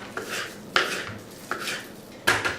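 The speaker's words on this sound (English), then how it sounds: "We're just trying to cut them up a little bit so that they'll cook down into nice bite-sized pieces" Knife chopping onions on a cutting board, four distinct sharp chops spaced about three-quarters of a second apart, close and fairly loud, with no talking.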